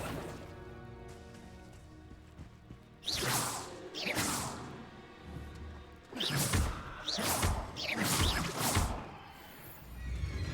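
Spell effects from Hogwarts Legacy, including the Accio summoning charm: several loud whooshing swishes, one near three seconds and a cluster of three or four between six and nine seconds, over a soft musical background.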